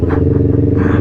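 A motorcycle engine held at half throttle gives a loud, close, steady rumbling drone with an even pulsing throb and no voices.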